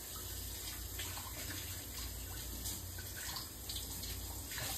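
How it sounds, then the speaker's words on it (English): A blender part being rinsed under a running kitchen sink tap, a steady, even stream of water throughout with no talking. "We're going to go rinse it out in the sink."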